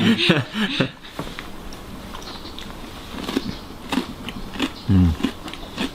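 Crunchy sesame brittle tea snack bitten and chewed at close range, a few sharp crackling crunches breaking through intermittent nearby talk.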